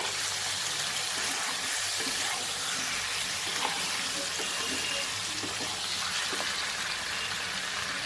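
Ground cumin and coriander powder sizzle steadily in a hot pan while being stirred for a Bengali pointed gourd curry, a continuous broad hiss with faint scraping and no talk.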